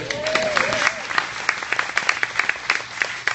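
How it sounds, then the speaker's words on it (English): A chamber of commerce breakfast audience bursts into applause, a dense run of close, sharp hand claps with a few scattered voices underneath. "Ready? Applause."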